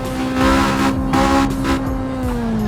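Honda Civic engine in the Assetto Corsa racing game, held at steady revs with a continuous loud droning harmonic hum for a few seconds, slight swells in level, no voices.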